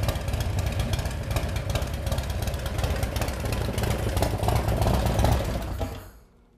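A motorcycle fitted with an S&S Cycle Power Package idles steadily with a loud, lumpy mechanical rumble, running alone until it cuts off abruptly near the end.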